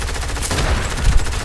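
Rapid gunfire in a shooter video game, a loud dense burst of repeated shots filling the whole moment with no talk over it.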